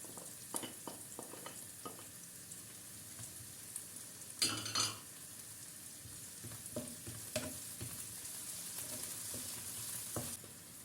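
Onions with green and red peppers fry in a pan with a steady close sizzle, punctuated by stirring clicks and a brief louder burst midway.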